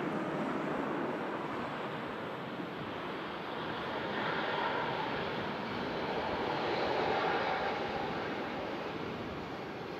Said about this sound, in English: Swedish designated TUI Fly Nordic 787-9 Dreamliner.